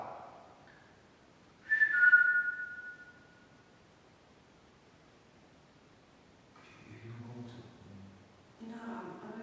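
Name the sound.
whistling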